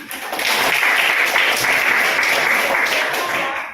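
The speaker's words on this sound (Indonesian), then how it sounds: "Oke, tepuk tangan." A group applauds in a classroom-style session, a steady crowd of hands clapping that rises quickly, stays full and even, then fades slightly at the close.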